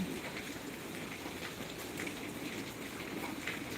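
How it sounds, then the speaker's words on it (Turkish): Steady rain mixed with snow pattering on a surface in Bursa, a continuous even hiss with soft scattered drops, fairly quiet and without voices. "Şu an karla yağmur karışık yağıyor."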